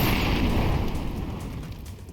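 An incendiary grenade bursting in Counter-Strike 2, a loud close whooshing roar of flame that starts at full strength and slowly fades over a couple of seconds, with no talking over it.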